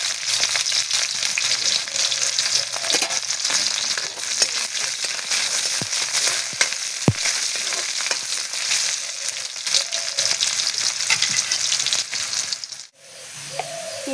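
Onions fry in hot oil in a kadai with a loud, continuous crackling sizzle and occasional stirring clicks, which drop away briefly near the end. No one speaks.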